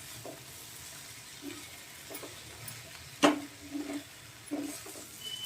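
Onions sizzling softly in oil in a home kitchen, a faint steady fry with a few sharp clinks of a spoon against the pan.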